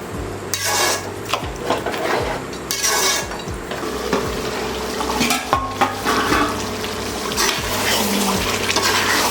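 Mutton curry with masala simmers and sizzles in a pot over a village cooking fire, with a spoon repeatedly scraping and clinking against the metal, a close, busy sound with no speech.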